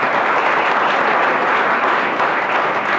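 Loud, dense applause from an audience at a motivational business talk, many hands clapping steadily and evenly for the whole stretch, close and continuous with no voices over it.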